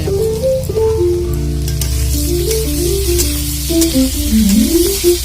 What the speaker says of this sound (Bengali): একসঙ্গে সোয়াবিনটাও ভাজা করে নেব